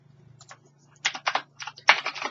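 Rapid computer keyboard typing while entering C# code, irregular bursts of clicks that start soft and grow louder and denser, with brief pauses between flurries.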